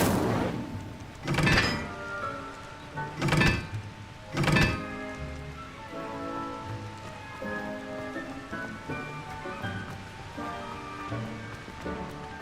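In Hogwarts Legacy, the Incendio fire spell is cast three times in quick succession, each a sharp whooshing burst, over a steady backdrop of crackling and ambient game sound.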